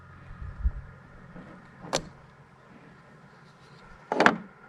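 Plastic tag light bulb housing on an F150 rear bumper is twisted, giving a short creak and then a louder, grinding plastic scrape about two seconds later, close up over low background rumble with no talking.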